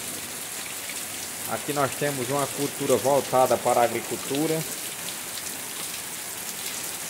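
Steady rain falls on surfaces throughout as a constant even hiss while someone speaks in the foreground for a few seconds midway.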